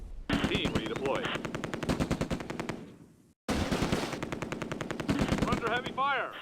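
Sustained machine gun bursts rattle in rapid rhythmic strings amid gunfire in the Close Combat: A Bridge Too Far war game, set around the Nijmegen bridge, with a brief silent gap before the loud fire resumes.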